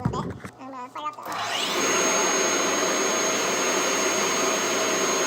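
A CNC carving machine for a wooden heirloom rack spins up after a brief voice, then settles into a loud, steady, high whine as it carves, continuing without a break.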